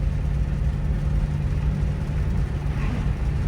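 A fully restored 1967 Shelby GT500 automatic drives over a bumpy road, giving a steady, fairly loud low rumble of engine and road noise with a faint body rattle buried in it.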